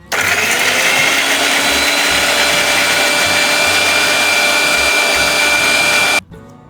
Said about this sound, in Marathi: तोपर्यंत मी आलं, लसूण आणि हिरवी मिरची ह्याची एक पेस्ट बनवून घेतो